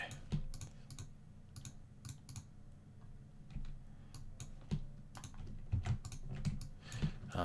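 Irregular clicks of computer keyboard keys being pressed while digital painting, close and fairly quiet, in short scattered bursts with pauses between.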